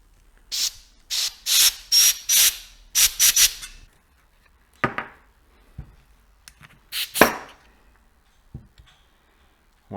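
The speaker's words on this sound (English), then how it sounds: "I'm gonna go ahead and push air into the caliper, and that should push the pistons out" Compressed air is blown into a Kawasaki KLR 650 rear brake caliper to force out the pistons: several short loud hissing bursts in a quick series, then scattered clicks, knocks and one more sharp blast, close by.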